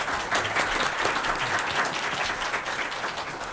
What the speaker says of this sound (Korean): 오늘 두 분의 발제자 그리고 토론자분들께 큰 박수로 응원해 주셨으면 감사하겠습니다